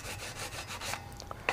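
Repeated scraping strokes of sandpaper rubbing against a motorcycle frame, steady and close, followed by a few light clicks at the end.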